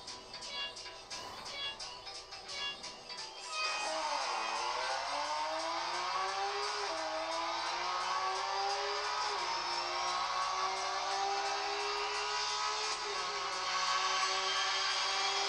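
Racing car engines in the mobile game Real Racing 3, a steady whining drone with rising and falling pitch sweeps after a few seconds of tapping, played on a phone.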